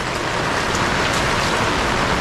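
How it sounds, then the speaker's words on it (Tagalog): Heavy rain pours steadily and loudly, a dense unbroken hiss of drops close by with no voices. "Ngayon lumakas yung ulan. Kanina walang ulan, ang liwanag. Ayun, lakas ng ulan no."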